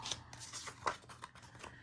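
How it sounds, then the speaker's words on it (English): Scissors notch the edges of paper for a baby album, giving a series of quick, close, soft snipping cuts at an irregular rhythm with no talking. "We're going to notch this edges with your scissors."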